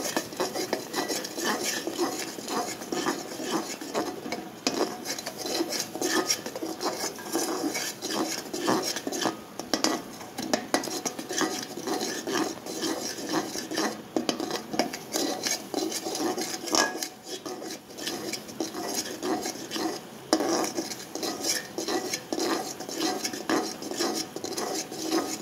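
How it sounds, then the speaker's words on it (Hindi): A spoon stirs an egg mixture in a cooking pot nonstop, making a steady run of close scraping and clinking strokes against the metal. "मुसलसल चम्मच हिला रही हूँ।"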